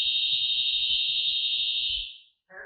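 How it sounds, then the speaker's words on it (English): A loud, steady high-pitched alarm tone blares continuously for a couple of seconds, then cuts off, with faint background noise underneath. "the smoke alarm went off"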